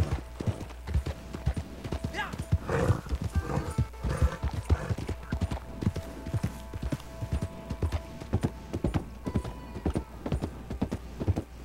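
A horse named Napoleão, a sturdy war horse, gallops in Red Dead Online, its hooves beating a steady, loud rhythm with occasional snorts and a faint whinny over a low ambient game soundscape.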